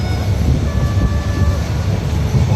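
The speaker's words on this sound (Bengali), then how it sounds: "আমি যে রেলগাড়িটিতে যাচ্ছি" Steady low rumble of the Dhaka to Chittagong Mohanagar Probhati Express train moving in light rain, continuous and loud, with faint tonal squeals riding over the clatter.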